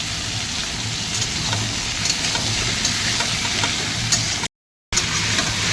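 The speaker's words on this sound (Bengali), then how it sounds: "সবজিগুলো মোটামুটি ভাজাভাজি হয়ে গেছে।" Vegetables fry in oil with green chillies, sliced onion and a fish head for a Bengali pui shak chorchori, giving a steady, close sizzling hiss that cuts out briefly near the end.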